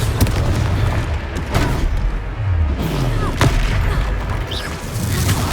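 A Confringo blasting spell goes off in the Hogwarts Legacy video game, with deep booming explosions and bursts of impact over a rumbling battle backdrop and scattered game effects.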